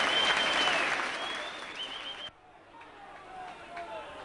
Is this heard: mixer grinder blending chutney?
no